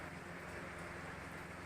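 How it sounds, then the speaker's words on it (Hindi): Rain falling outside, a steady, soft hiss of drops with no clear individual impacts, faint and continuous throughout. "बारिश भी हो रही है"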